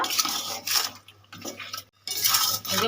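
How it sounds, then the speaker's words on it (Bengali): Salted chicken curry being stirred in a pot, giving scattered scraping and clinking of a utensil against metal in irregular bursts, moderately close with a brief quiet gap midway. "এবার একটু নেড়ে চেড়ে নেব"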